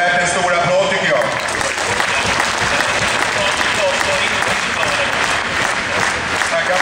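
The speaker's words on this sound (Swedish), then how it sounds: "Ja, det är värt en stor applåd tycker jag." Applause on an ice rink during an interview with a junior under-18 ice hockey team, loud and continuous clapping from a crowd, with voices mixed into the dense sound.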